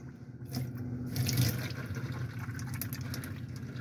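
Hot water runs from a tap in a Sprite Musketeer caravan, a steady splashing flow at close range with no talk.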